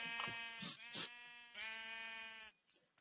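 Sheep bleat in a Minecraft-style video game: a few short, wavering bleats close together followed by one longer drawn-out bleat, clear and close.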